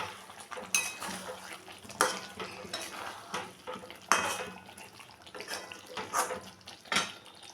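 Chicken curry gets stirred in a metal pan after garam masala powder is sprinkled in, with repeated clanks and scrapes of a spoon against the pan over a soft sizzle, close and rhythmic, no talking.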